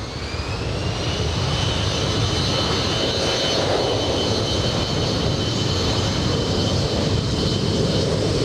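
SkyWest regional jet taking off from runway 24 Right at LAX, a loud, steady engine roar held throughout with a high whine above the broad rumble, no voices.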